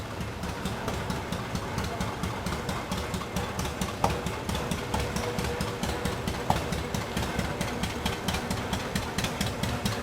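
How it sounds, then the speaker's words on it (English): A vintage John Deere Model D tractor, the 438th built, chugs along in a Kansas threshing bee parade with a steady, rapid two-cylinder putt, heard from a moderate distance without voices. "This is a 1924 John Deere Model D, owned by the Delaney family and driven by Jeff Delaney, Larned, Kansas."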